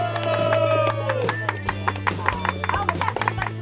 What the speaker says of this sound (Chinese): 你们请问拍手可以大声一点吗